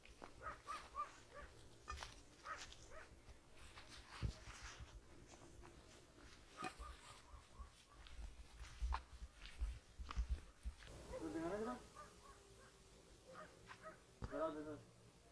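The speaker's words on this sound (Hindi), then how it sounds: "पीछे साइड से बहुत तेज आवाज़ आ रही है भौंकने की बराबर कुत्तों की।" Dogs bark and whimper at a distance in a jungle at night, mixed with voices nearby and rustling movement.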